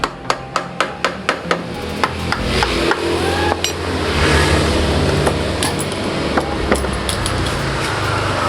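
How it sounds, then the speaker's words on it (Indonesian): A rubber mallet taps repeatedly on a stiff part of a Honda Prima motorcycle: a quick run of sharp, evenly spaced knocks, then a few scattered hits over a steady background hum. "Kita getok menggunakan palu karet teman-teman, karena dia agak sulit ya di sini."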